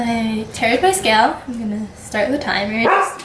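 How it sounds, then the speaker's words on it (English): A dog barks in a short burst of sharp woofs, a pair of barks followed by another pair, loud and close, mixed in with a person talking indoors while weighing coffee on a scale. "sorry, that was my dog."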